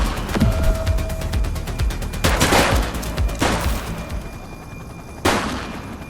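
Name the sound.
gunfire in a shootout, from the video game The Precinct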